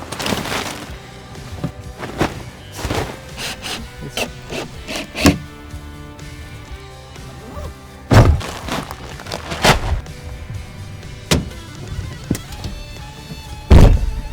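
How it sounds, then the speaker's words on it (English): Fabric-and-pole walls of a hunting ground blind pop outward in a series of irregular thumps and rustles, some sharp and loud, scattered close by over several seconds. "They make these super easy to put up because you just pop the walls out."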